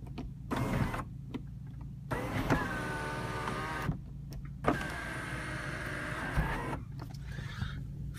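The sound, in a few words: electric tilt sunroof of a 2000 Lexus IS200 operating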